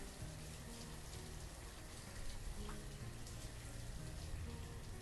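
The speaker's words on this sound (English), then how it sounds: "And it's raining." Rain in the city-building video game Banished, a constant, even hiss of falling water that fills the background with no breaks.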